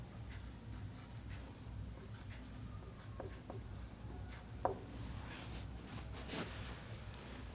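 Marker or chalk writing graph vertices on a board, faint scratchy strokes and a few sharp taps spread across a quiet room, with no talk over them.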